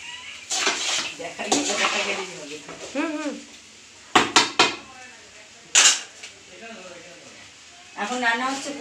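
Pots, pans and metal utensils clank and scrape in a home kitchen while pulao cooks, with several sharp knocks standing out amid steady conversation between people nearby.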